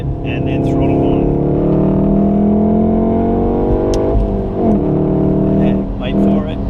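A Golf R engine revs on a track day at Wakefield, a steady loud drone that rises and dips as the throttle is fed on and off, with a voice talking over it throughout.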